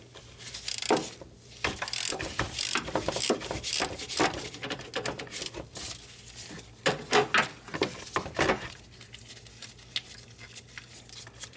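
Ratchet wrench loosening a 17mm timing belt cover bolt on a Honda 3.5L V6 engine, giving rapid clicking bursts close by, with brief pauses between runs of clicks.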